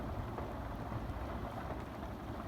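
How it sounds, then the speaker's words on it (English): Heavy rain falls in a dense, steady roar of countless drops, close and constant throughout, during a storm that has a creek overflowing and flooding pastures. "Hope the rain slows down."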